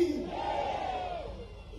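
A crowd at a chief minister's political rally chants back in reply to a Bharat Mata slogan, one short loud unified shout that fades quickly.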